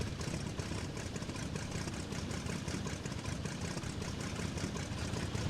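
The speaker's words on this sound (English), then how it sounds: "we're actually just going to do a taxiway takeoff here." Single-engine L-19 Bird Dog light airplane running steadily during a taxiway takeoff, a continuous broadband engine drone with low rumble that stays loud and even throughout, with no talk.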